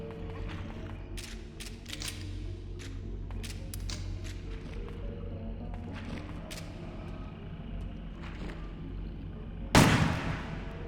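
Repeated gunshots in the survival horror video game Crow Country, sharp cracks fired in an irregular volley over a steady droning game soundtrack, ending in one louder, harsher blast near the end.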